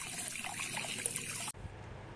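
Water runs steadily from a tap under pump pressure, a bright continuous hiss that cuts off abruptly partway through, leaving a quiet room tone.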